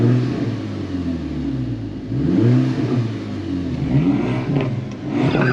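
A 365bhp Edition 35 car engine revs repeatedly in the street in Camden Town, deep rumbling blips rising and falling in pitch, loud and close, with no talking.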